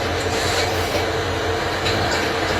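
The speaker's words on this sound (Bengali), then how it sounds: "মেন লাইন দিয়ে এই ট্রেনটি কিন্তু থ্রু পথ চলে যাচ্ছে" A Bangladesh Railway train runs through on the main line, a loud, close, continuous rumble of wheels and carriages that fills the whole short moment.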